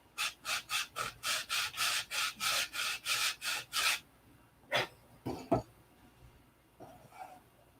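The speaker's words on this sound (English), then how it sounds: "I guess it'd be best to just sand this edge" Sanding the edge of a wooden wing, a steady run of about fourteen rhythmic rasping strokes, close and even, followed by a few scattered scrapes and handling noises.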